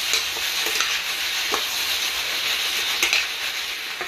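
Pepper chicken and honey being stirred in a hot pan, a steady close sizzle with light scraping strokes throughout, no talking.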